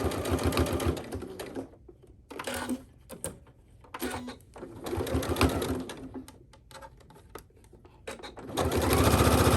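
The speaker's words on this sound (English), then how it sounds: "we're also just going to baste these raw edges down" Sewing machine basting down raw fabric edges on a dress panel, bursts of rapid mechanical stitching broken by short pauses, close and clear, with a long final run.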